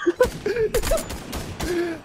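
Rapid bursts of video game gunfire crackle in Fortnite, several sharp shots in quick succession, with excited shouting over them.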